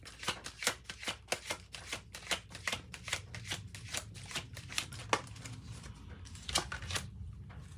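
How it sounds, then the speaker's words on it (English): Tarot cards are shuffled and drawn from the deck in a fast run of crisp, papery riffles and slaps, close by and fairly quiet, with no talking. "Let me get another card."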